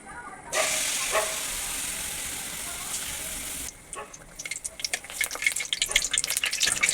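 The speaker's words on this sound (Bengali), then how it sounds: "ফ্লেমটা একটু মিডিয়াম রেখে আমি এগুলো ভেজে নেব।" Mango malpua batter dropped into hot oil sizzles steadily with a loud hiss from the start; midway it drops to a softer, crackling fry with scattered pops and spits.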